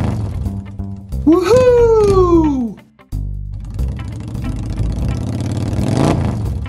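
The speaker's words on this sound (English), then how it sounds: "Shaggy, what are you doing on that motorcycle?" A cartoon motorcycle engine revs up in the animated series Transformers Rescue Bots, following a gleeful shout. The buzzy engine snarl rises and keeps running loud and close.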